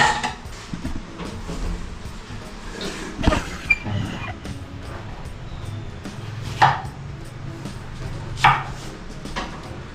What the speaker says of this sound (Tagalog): Slice. Buyas.